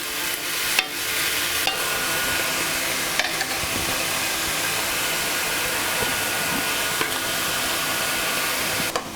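Onions fry in a pan until golden brown, with a steady, close hissing sizzle broken by a few sharp clicks and scrapes from stirring.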